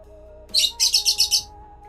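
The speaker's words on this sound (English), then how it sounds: "Birds are still cheering me on though." A bird gives a quick series of about five bright, sharp chirps in close succession, loud and near, over a faint low steady hum.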